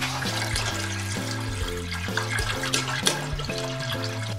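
About 5 litres of water pours into a pot to start mashing malt for a honey-strawberry home brew, a steady splashing, gurgling stream close by with shifting low tones and no talking.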